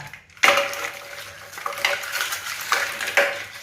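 Crushed eggshells tipped into a dry pan for roasting, giving a sudden scraping rattle followed by several lighter stirring scrapes and clinks spaced out over a few seconds, with no talking.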